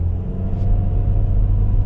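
A 2024 Hyundai Kona SEL Convenience with a 2-liter engine accelerating, heard as a steady, close, low engine rumble with a constant droning tone.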